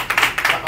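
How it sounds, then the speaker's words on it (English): Audience applause for two volunteers at a print business networking seminar, a brief burst of several overlapping claps from a crowd. "Big round of applause for my two volunteers."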